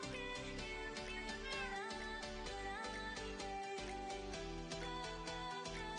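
A cat meows over loud, continuous music that fills the whole clip and partly masks the calls.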